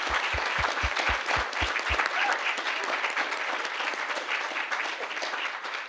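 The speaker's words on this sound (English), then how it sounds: "I really want to give our panelists a round of applause" Sustained applause from an audience at a figure skating diversity panel discussion, a dense steady wash of clapping that holds throughout, with a few heavy low thumps near the start.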